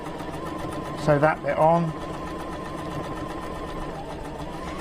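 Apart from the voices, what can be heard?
sewing machine sewing quilt pieces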